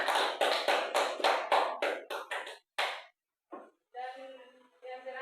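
A classroom of students applauds together, a burst of clapping lasting about three seconds that fades out, followed by a short pause and then people talking.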